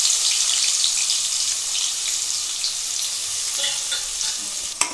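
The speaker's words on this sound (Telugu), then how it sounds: "ఇప్పుడు మిక్సీ పట్టుకున్న ఉల్లిపాయ పేస్ట్ కూడా వేసుకున్నామండి" Green chillies and ground onion paste fry in hot oil for a chicken gravy, making a loud, continuous close-up sizzle with a faint clink near the end and no voices.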